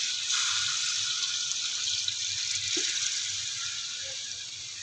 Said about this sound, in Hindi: अब मैं इसमें यखनी ऐड करूँगी।